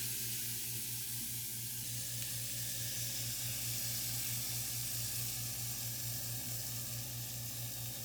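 A salmon fillet with lemon juice sizzles in a pan as a steady, even hiss, accompanied by the constant low hum of a running kitchen vent fan.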